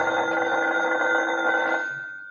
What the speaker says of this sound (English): Answer that phone, Decker.